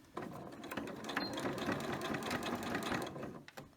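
A sewing machine stitches around the last corner of a small square fabric coaster, a steady quick mechanical whirring and needle chatter running near and continuous for most of the stretch before stopping.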